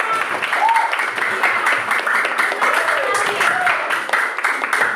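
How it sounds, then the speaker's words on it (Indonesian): Applause from a group during an English tenses lesson, a steady wash of clapping that runs the full length with some voices mixed in. "terima kasih tepuk tangan"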